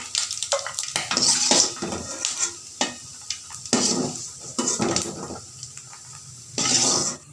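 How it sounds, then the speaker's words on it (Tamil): Fried coconut is scooped from a pan of hot oil into a vessel, heard as loud, close scraping and clattering bursts with short pauses between them over a faint sizzle. "இதை ஒரு பாத்திரத்தில் எடுத்து வச்சுக்கிறேன்"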